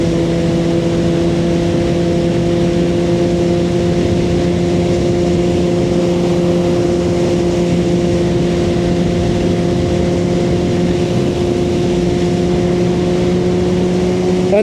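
A Suzuki GSX-R1000R motorcycle ridden at high speed, around 165 mph, gives a loud, steady engine drone with strong tonal harmonics and heavy wind rush that hold constant throughout.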